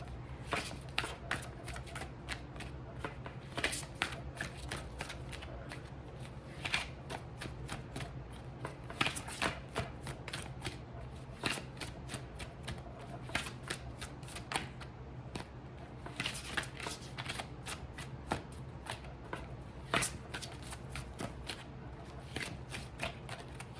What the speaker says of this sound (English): So right now I'm shuffling the Psychic of Tarot's deck